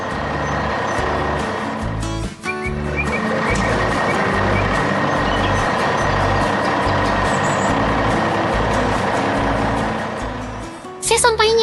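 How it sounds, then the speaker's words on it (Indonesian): Beeping reverse alarm from an animated green truck as it drives through city streets on the way to a construction site, a steady beep pattern pulsing over continuous engine noise. "Kini truk hijau itu melaju dengan pasti melalui jalanan kota."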